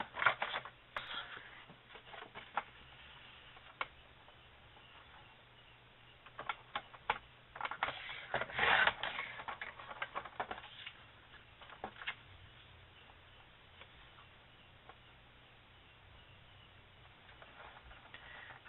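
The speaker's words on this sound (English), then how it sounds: "let's cut 2 new white pieces just to go on top" Scissors snipping white paper pieces for a handmade Elf Easel Christmas card, with soft irregular cuts and paper rustles at close range, busiest in the middle stretch, no voices.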